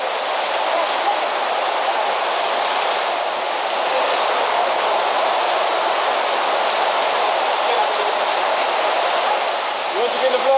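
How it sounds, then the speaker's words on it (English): Heavy rain pours down steadily outdoors in Ilam, Nepal, a dense, even hiss holding at a constant level for the whole stretch, with no speech audible. "it's raining so hard"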